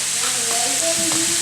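Potatoes O'Brien frying in a pan for a soft, not crispy, finish; a steady close sizzle with a few brief stirring scrapes and tonal clinks, no talk.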